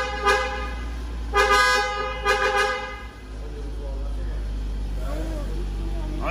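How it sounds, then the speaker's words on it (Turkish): A car horn honks in several short blasts over a steady idling engine rumble, followed by a voice speaking nearby. "Çal kornayı."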